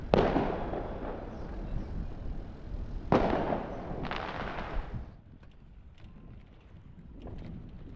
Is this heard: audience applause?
no